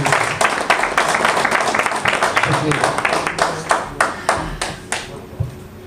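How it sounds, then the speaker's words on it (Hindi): An audience at a one-day leadership programme gives a guest speaker loud applause, dense clapping that thins into a few sharp, separate claps near the end, recorded close by. "जोरदार तालियां कमर साहब के लिए।"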